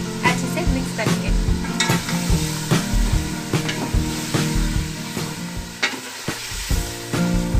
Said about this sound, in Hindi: अब हम इसमें अपना ये बीफ ऐड कर देंगे और इसे अच्छे से मिक्स करेंगे।